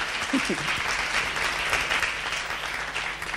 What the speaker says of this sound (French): On l'applaudit encore plus fort d'être là.